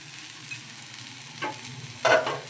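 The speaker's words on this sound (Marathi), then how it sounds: "तेल टाकून घेणार. लवंगा आणि 2 वेलची टाकलेली आहे मी भाजायला." Cloves and cardamom fry in hot oil with a soft, steady hiss, and two brief bursts of louder sizzle or stirring stand out near the end.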